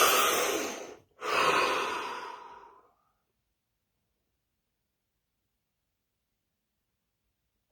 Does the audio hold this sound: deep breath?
yes